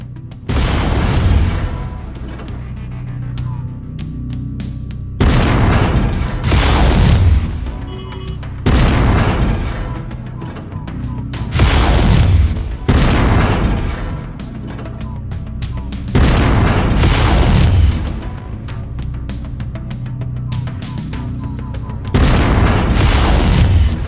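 Heavy mech weapons fire at an enemy cockpit in the video game MechWarrior 5: about six loud, booming bursts arrive roughly every five seconds, each a rumbling blast over a steady low battle drone.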